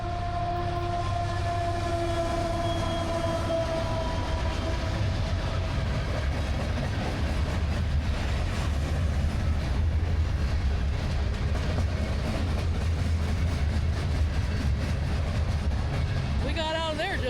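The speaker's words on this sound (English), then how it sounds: "there's a train coming" A freight train with gondola cars rumbles past on the tracks, loud and close, with a sustained horn-like tone at first and a continuous rolling clatter throughout.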